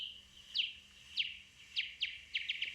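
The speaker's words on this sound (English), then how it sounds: "The bat keeps making chirping noises" A series of short, high chirps repeating at irregular intervals, clustering faster toward the end, faint and thin against a quiet background.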